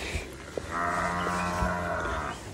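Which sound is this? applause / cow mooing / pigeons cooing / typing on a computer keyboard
cow mooing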